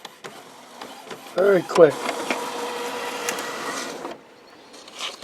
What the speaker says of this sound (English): it'll print out that nozzle check